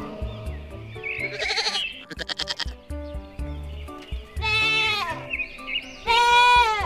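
Repeated goat bleats, wavering and nasal, rise loudly over a bouncy cartoon children's alphabet song with steady beat, a few calls spaced through the passage.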